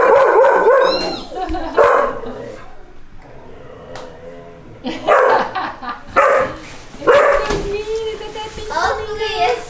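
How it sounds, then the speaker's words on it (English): A dog barks and yips in repeated bursts at a person dressed in a pink flamingo bird costume, close and loud, with people talking over and between the barks. "We might have to put the doggy in another room so we can finish our video without the dog barking at the bird."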